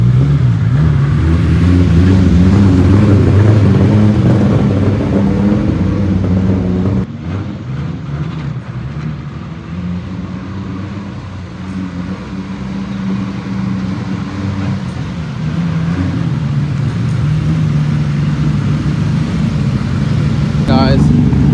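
A Lexus SC300 engine idles and revs steadily, loud and close, with a dip in intensity midway, while someone talks over the running car.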